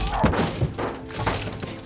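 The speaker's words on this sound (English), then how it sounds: "the windows explode outward, sending glass flying everywhere" Glass shatters in a short burst of crashing thuds and breaking shards, loud and close.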